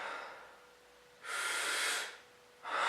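Deep breaths through both nose and mouth in a breathing exercise: close, airy rushes, one long breath in the middle and another starting at the end, with quiet between.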